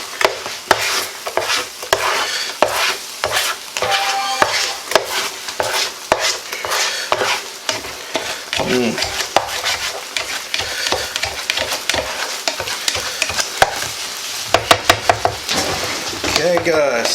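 Plastic spatula stirring Guinness beef stew in a pot, with repeated scraping and knocking strokes against the pot over a soft simmer, close and fairly loud, with a voice talking at times.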